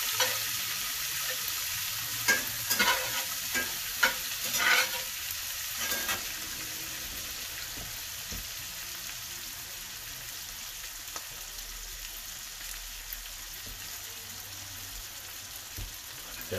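Shrimp cooking in a pan for Tuscan butter shrimp, a steady soft sizzle and fry with occasional stirring clatters early on, close and continuous without any talking.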